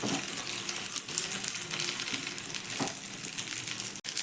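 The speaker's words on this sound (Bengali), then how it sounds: "তো আমি এখানে কোনো কিছুই ব্যবহার না করে একটু নাড়াচাড়া করে টিফিনগুলোকে একটু ভেজে নেব।" Semolina tiffin snacks fry in a little oil in a pan while being stirred, giving a steady close sizzle with soft scraping and crackle throughout, one brief sharp click near the end.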